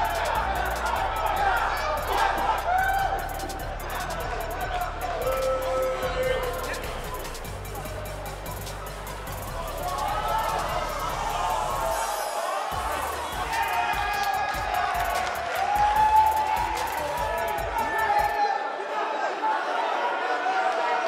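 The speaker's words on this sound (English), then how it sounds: "it sounds like this arena is more than ready to kick this one off" Arena crowd in the WWE 2K18 wrestling video game roars and cheers steadily ahead of a women's singles match, a dense continuous wash of crowd noise under a commentator's voice throughout.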